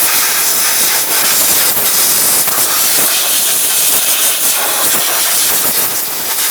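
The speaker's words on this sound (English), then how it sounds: "I'm going to use some compressed air." Compressed air blasts continuously around the spark plugs of a 3.8L V6 in a Chrysler Town & Country, a loud, steady hiss with slight flutter that lasts the whole stretch with no voices.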